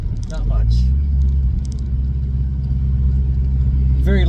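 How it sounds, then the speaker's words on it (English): A supercharged BMW Z3 with a 1.9L engine and a straight-pipe exhaust with no catalytic converter and only a small muffler hums with a loud, steady, low rumble while driving, as someone talks briefly over it. "no cat, straight pipe right out the back"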